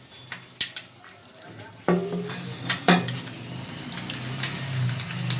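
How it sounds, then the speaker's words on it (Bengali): Ground spices are mixed with a little water in a bowl for a chana dal recipe, with a spoon clinking against the bowl. The taps are light and scattered, with two sharper ringing clinks and soft scraping between them. "এবার আমি এটাকে আগে এই গুঁড়ো মশলাটাকে আমি একটু গুলে রেখে দেবো সাইডে। অল্প জল দিয়ে দিলাম।"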